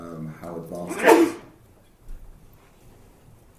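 A single sharp, loud sneeze during a mining industry panel discussion, bursting out just after a person speaks and followed by near quiet.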